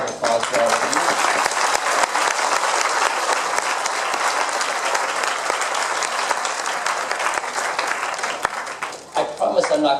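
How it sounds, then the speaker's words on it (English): Loud, dense audience applause at a school UN Day keynote event, continuous clapping that fills the hall before tapering off near the end. "So I'd like to have a round of applause for all of you."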